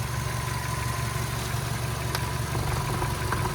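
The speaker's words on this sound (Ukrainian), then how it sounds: "Робота двигуна." A Volkswagen Caddy 1.6 gas/petrol engine idles steadily nearby, a continuous low rumbling hum with no revving.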